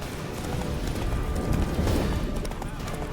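Roach, a horse in The Witcher 3: Wild Hunt, gallops with dense, rapid hoofbeats that stay close and loud for a few seconds amid steady game ambience.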